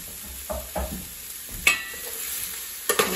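Chile perón peppers, added after carrot, are stirred and fried in a pan: a soft sizzle under a few quick spoon scrapes and knocks, close and fairly quiet, with no talk.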